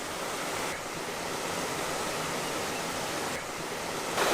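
Water pours steadily out of a cave mouth, a dense, continuous rushing wash heard close and fairly loud, with no voices over it.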